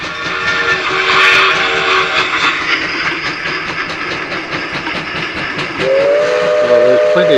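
Loud rumbling train noise on a rail trail heading downhill, with rattling cars, a shrill whistle blast early on, and a rising tonal squeal near the end.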